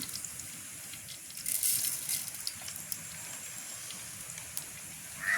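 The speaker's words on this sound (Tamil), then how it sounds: "எண்ணெய் நல்லா சூடு இது நாங்கள் கடுகை சேர்த்து கொள்வோம். அதோட வெந்தயத்தையும் சேர்த்து கொள்வோம்." Mustard and fenugreek seeds spluttering and crackling in hot oil, a steady hissing sizzle with scattered pops, close and fairly quiet, with no talk.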